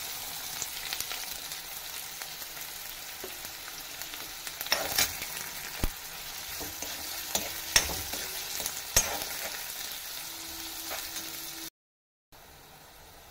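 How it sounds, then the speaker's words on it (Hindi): A quiet, continuous sizzle of finely chopped onions browning with garlic in a pan, with occasional crackles and pops, then a brief dropout near the end. "अब मैं इसको ब्राउन करूंगी लहसुन के साथ।"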